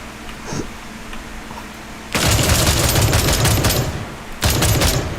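Rapid automatic gunfire in a video game as a magazine is emptied, a loud sustained burst of about two seconds, a brief pause, then another close burst, with only faint background before the shooting starts.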